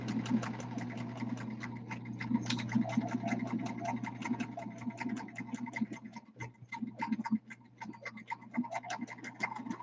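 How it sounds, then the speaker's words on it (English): A sewing machine stitches around a travel pillow, its needle tapping in a fast, steady mechanical rhythm over a low motor hum, briefly faltering before resuming. "Now we just do a little quickie sewing job around the inside, all the way around the outside"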